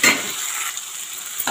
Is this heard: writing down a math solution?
no